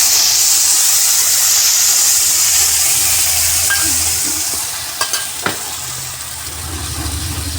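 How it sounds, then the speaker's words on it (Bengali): Spice mixture, with salt and nuts, tipped into hot oil for a vegetarian green papaya curry: a steady loud sizzle and hiss of frying, with a few sharp spatters near the end. "দেখুন মিশ্রণটা আমি এবার তেলে ছেড়ে দেবো"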